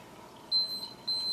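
An interval timer for a workout gives two short electronic beeps about half a second apart, clear and thin over quiet room tone.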